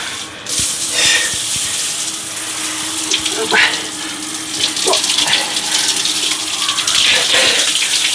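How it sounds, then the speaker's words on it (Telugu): Overhead shower water runs steadily in a villa bathroom in Munnar, Kerala, a loud close hiss of spray with splashing bursts and faint voices underneath. "ఇప్పుడు ఇట్లా అంతే పైనుంచి వాటర్ వచ్చేస్తాయి చూడండి"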